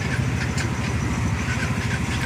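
A Yamaha Mio 125 scooter engine idles steadily up close on a flooded street, a continuous low buzzing rumble with faint background noise and no talk.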